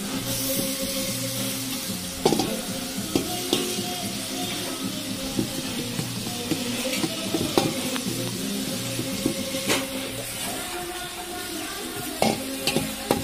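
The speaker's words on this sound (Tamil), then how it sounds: "நாலு வெங்காயத்தை கட் பண்ணி போட்டாச்சு இப்போது இதை நல்லா கொஞ்சம் வதக்குவோம்" Chopped onions sautéing in a pan for mutton biryani, giving a steady close sizzle with frequent scraping stirs and clinks of a spoon against the pan throughout.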